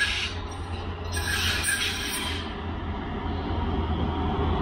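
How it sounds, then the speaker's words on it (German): A regional train pulling into a railway station, a continuous low rumble of rolling wheels with brief high metallic squeals early on, fairly close and steady throughout. "Guck mal, unser versüffter Zug kommt hier angerollt."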